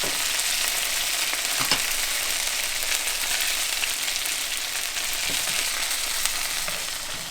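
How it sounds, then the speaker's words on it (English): Butter froths and sizzles in a frying pan while fish from the catch is cooked at a Trinidadian home, giving a steady, close, hissing fry that holds level throughout with no voices. "Just put a little bit of butter here in the pan. Let that froth up nicely."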